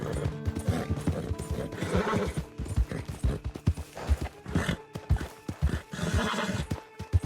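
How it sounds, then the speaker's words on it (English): A horse in Red Dead Redemption 2 whinnies and snorts amid a steady clip-clop of hooves, close and fairly loud, with faint talk mixed in. "Hello, random horse."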